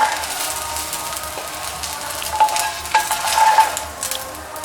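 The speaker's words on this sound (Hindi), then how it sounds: "1 टेबलस्पून के करीब है, और इसी में हम फ्राई करेंगे" Raw banana shami kababs fry in a little oil, giving a steady close sizzle with soft crackle and a few light utensil clinks, no voices.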